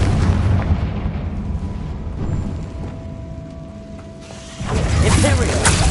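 Confringo fire-blast spells in Hogwarts Legacy rumble loudly as booming, artillery-like explosions, dipping briefly before another forceful blast swells back up, with a voice in the mix.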